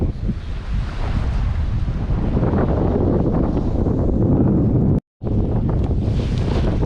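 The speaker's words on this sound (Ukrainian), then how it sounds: "вітер, правда, сильний" Strong wind buffeting the microphone at the seashore near Adam's Bridge, a loud continuous roar with surf and waves beneath it and a brief sharp dropout near the end.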